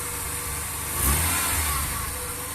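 A 1993 Ford F250 XL's 4.9 L inline-six idles unevenly with an ignition fault, its steady engine drone surging up briefly in the middle before settling back.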